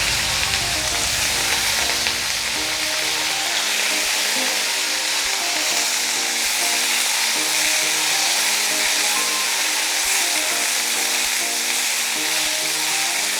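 Brinjal pieces, soaked in salt water, frying in a tablespoon of oil in a pot, a steady loud sizzle throughout with scattered crackles and stirring scrapes.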